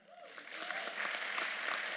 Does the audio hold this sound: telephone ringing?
no